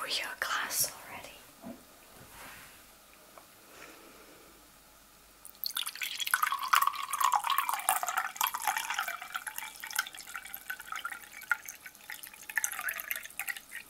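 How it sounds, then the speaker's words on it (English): A drink pours into a glass in a quiet spa setting, a soft, close liquid trickle building after a hushed stretch and running steadily alone without talk. "I'm going to pour you a glass already."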